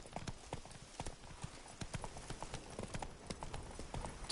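Roach, a horse in The Witcher 3: Blood and Wine, gallops steadily with a quick, even clip-clop of hooves running throughout at close, moderate loudness.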